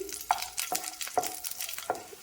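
Chopped onion and garlic fry in a pan while a utensil stirs them, giving a few distinct scraping clicks over a faint, soft sizzle at close range.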